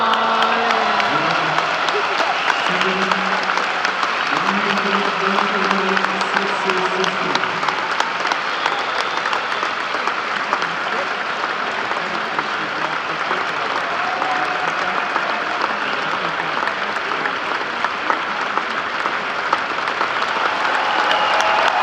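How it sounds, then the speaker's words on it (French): A crowd at a Roland Garros tennis legends exhibition applauds the players after the match, sustained dense clapping with scattered cheers and whoops, mixed with an announcer's voice and a low musical tone early on. "Encore un bonheur d'applaudissements pour nos quatre légendes"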